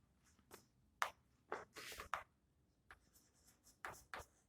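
A teacher writes on a board in a physics classroom, with short quiet scratchy strokes in separate bursts and brief gaps between them, close and soft.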